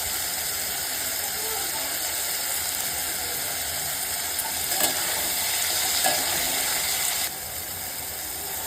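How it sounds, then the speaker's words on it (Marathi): Garlic cloves, curry leaves and green chilli stir-fried in oil for an Agri-style paneer bhaji make a continuous close hiss over a steady mechanical hum, with a few utensil clatters midway before the sizzle eases slightly near the end. "तेलावर परतून घ्यायचं, व्यवस्थित शिजवून घ्यायचं आपल्याला."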